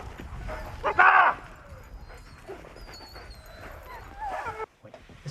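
A dog in an obedience training session gives a sharp bark followed by whimpers and yips, close by, with people talking around it.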